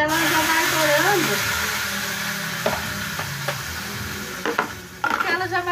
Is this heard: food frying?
yes